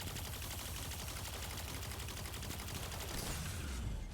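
Vandals in Destiny 2 fire line rifles in a sustained, dense stream of rapid shots, steady and fairly faint throughout, with no talk over it.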